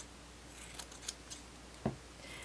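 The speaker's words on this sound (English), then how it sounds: "I'm just cutting the extra seam allowance again" Scissors snip through the extra seam allowance on narwhal plush fabric, a few quiet, separate cuts spread out, then one sharper, louder snip near the end, with no one speaking.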